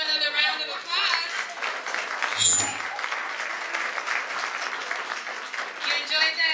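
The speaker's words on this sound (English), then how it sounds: "Let's give them another round of applause." An audience at a Black history celebration event gives a sustained round of dense applause that swells and fades, with crowd chatter and a few voices mixed in.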